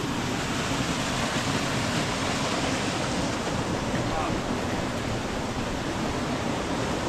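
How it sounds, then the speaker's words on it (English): Small waterfalls in the lush countryside of Portland, Jamaica produce a steady, broad rush of falling water, continuous and enveloping, with a roaring, windy texture and no clear voices. "Small waterfalls here, all around here."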